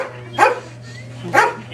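A police K-9 dog at a training demonstration gives two sharp barks about a second apart, fairly close, over a steady low hum.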